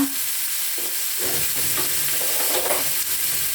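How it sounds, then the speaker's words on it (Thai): Shiitake mushrooms stir-frying in sesame oil, a steady close sizzle with scraping stirring strokes through the pan, continuous and fairly loud without talk. "ผัดเห็ดหอมกับน้ำมันงาเนาะ"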